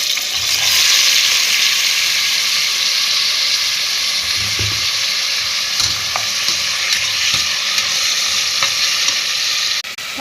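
Tomatoes frying in a pan with softened onions and green chillies for tomato rice, a close, steady hissing sizzle with occasional stirring clicks and scrapes.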